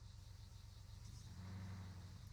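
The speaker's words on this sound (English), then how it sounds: "Oh, engine noise is back." A distant engine drones somewhere to the north, a faint, steady low hum with a slight rise in the middle and no speech over it.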